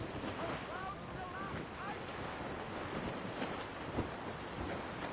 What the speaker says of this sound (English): That wind's trouble, Captain Cormac.